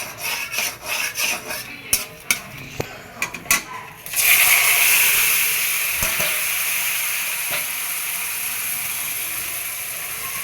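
Shukto vegetables go into a hot kadai. A few scraping, clattering knocks come first, then a sudden loud hiss that settles into a steady sizzle and slowly fades.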